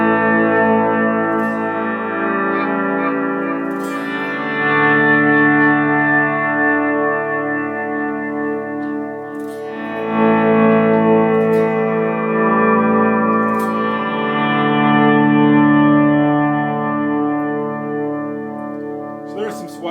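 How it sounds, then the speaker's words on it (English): Electric guitar chords slowly swelling in from silence and fading via an Ernie Ball MVP volume pedal, several times in a row, with a washy, echoing tone. "I'll do a couple swells here, show you what that kind of sounds like with the sweep"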